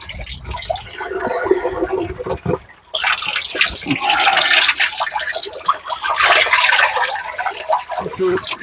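Water gushing from a tap into a plastic jug at a house partly surrounded by lake water, a steady loud splashing rush that briefly breaks off, with people talking over it.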